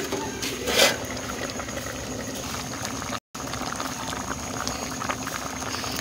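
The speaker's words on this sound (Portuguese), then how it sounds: "agora vou deixar aí cozer. É só você deixar cozinhar como sempre faz a sua massa esparguete." Spaghetti boiling in a pot of water, a steady close bubbling churn that runs evenly throughout with a brief dropout midway, no voices.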